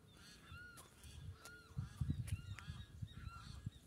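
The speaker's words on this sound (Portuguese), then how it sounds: "Olha os pássaros cantando." Geese honking repeatedly over a flooded rice field beside a river, a chorus of distant calls overlapping in irregular bursts, with some louder honks and rustling nearer by.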